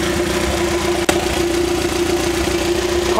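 A Honda B20 VTEC engine idles on open headers with no muffler, a steady, loud, close drone with a throbbing low pulse and one sharp click partway through.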